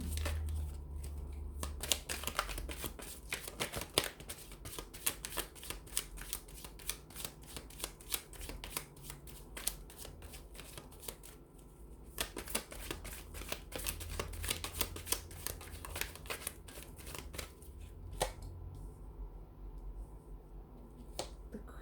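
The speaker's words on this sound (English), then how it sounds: "we'll give the cards a shuffle here" Tarot cards are shuffled repeatedly up close, a long run of crisp riffling bursts and soft flicks with brief pauses between.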